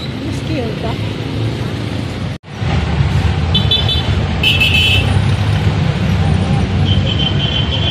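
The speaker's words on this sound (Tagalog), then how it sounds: "Oh no, may mga sasakyan." Road traffic with passing vehicles: a steady roar of engines and tires going by, with a brief dropout and short high beeps or horn toots, and someone speaking over the passing cars.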